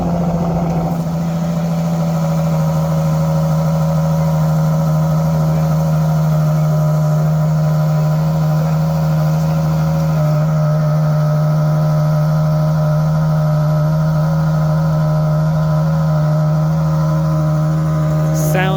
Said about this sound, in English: Sound of a naturally aspirated V12, man, on an SUV.